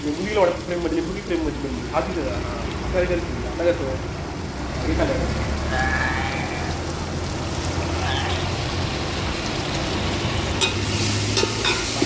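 Chicken 65 fries in hot oil with a steady, dense sizzle and occasional stirring scrapes, while people talk nearby over the frying throughout.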